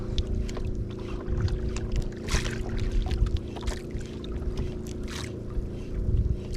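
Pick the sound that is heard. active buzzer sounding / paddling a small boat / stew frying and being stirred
paddling a small boat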